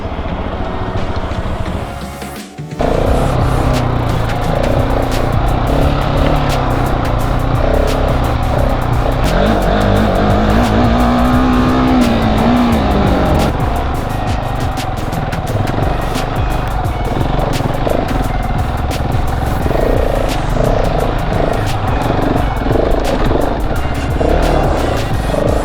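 A Husqvarna 701 enduro motorcycle rides tight Colorado single track over whoops, its engine a loud, continuous drone with shifting revs for the whole stretch after a brief rough start.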